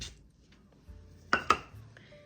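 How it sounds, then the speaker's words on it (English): Spoon stirring a peanut butter ball mixture in a bowl, mostly soft low scraping with two sharp clinks against the bowl near the middle. "I am going to stir that in"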